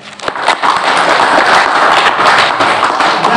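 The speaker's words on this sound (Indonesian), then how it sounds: "Tepuk tangan untuk Pak Yono" Audience applause at a farewell-and-welcome ceremony for Islamic religious education supervisors in Rubaru district, honoring Pak Yono: dense, steady clapping from many hands, fairly loud and sustained throughout.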